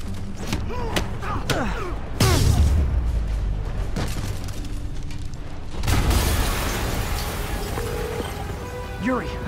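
In a Spider-Man video game, deep booming explosions burst out twice amid a busy action soundscape with music and effects, while characters speak over the mix.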